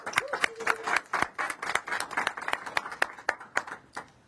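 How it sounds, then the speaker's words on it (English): Sparse hand claps ring out at a St. Paul community gathering on police accountability, a modest scattering of individual claps in a loose rhythm rather than a full ovation. "Please give a big round of applause to Georgia Fort."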